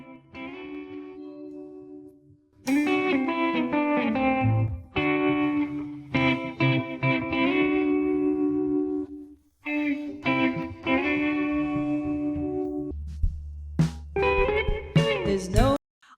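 Electric guitar part isolated from a song, played with effects such as distortion and chorus, mixing sustained chords and busy picked phrases in loud bursts with brief pauses, heard alone without other instruments.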